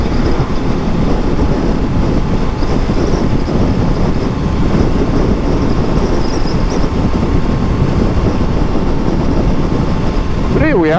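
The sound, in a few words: Royal Enfield Classic 650 motorcycle riding at 60 mph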